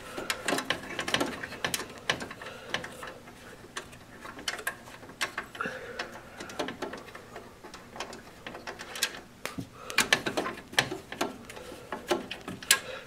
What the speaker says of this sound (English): in order to be able to pull out that hot swap tray, you undo two thumb screws right there.